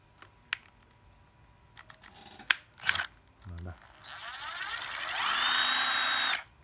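A 12V cordless drill-driver is handled with a few clicks and trigger taps, then runs with a rising, high-pitched motor whine for about two seconds, close and fairly loud.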